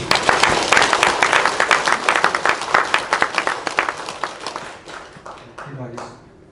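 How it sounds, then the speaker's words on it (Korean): A church congregation claps at a pastor's installation service, dense applause that is loud at first, then thins and fades away over the last seconds. "박수만 하시고요."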